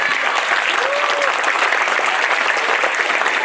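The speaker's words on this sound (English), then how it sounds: "Clap for them" A room full of people applauds children after their stage performance, a loud, dense, continuous burst of clapping with a brief voice calling out beneath it.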